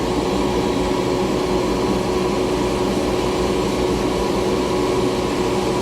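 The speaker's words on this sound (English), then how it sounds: "so I'm going to bead blast this thing first, and then I'll weld it up" A bead blaster cleans an old REO engine bracket with a continuous, even hiss and whine of abrasive blasting and machine noise, steady and loud with no pauses and no talking.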